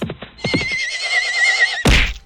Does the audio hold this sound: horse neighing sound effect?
yes